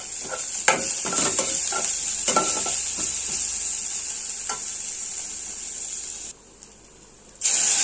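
A lump of asafoetida sizzles and crackles in hot oil as a tempering for rasam, loud and close, with stirring and scraping, before it briefly drops away near the end.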